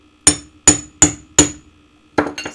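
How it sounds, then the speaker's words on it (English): Four sharp, evenly spaced hammer taps on small pieces of wire, followed by a pair of quicker lighter knocks, close and alone. "I'm going to hammer it gently so it doesn't roll away from me."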